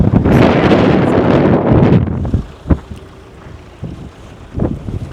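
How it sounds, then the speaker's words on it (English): Strong wind on a road trip buffets the microphone in a loud, roaring rush for the first two seconds, then eases into gusty rumbles and occasional thumps. "it's so windy"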